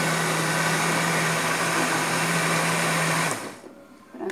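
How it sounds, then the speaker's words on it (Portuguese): A kitchen blender whirs loudly and steadily while making pumpkin seed milk, a constant motor drone that cuts off abruptly near the end, leaving a quiet tail. "Esse botãozinho aqui do liquidificador"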